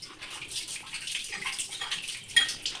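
Surfaces being wiped down with water make soft, quiet swishing strokes in an uneven rhythm, with a faint watery clink near the end.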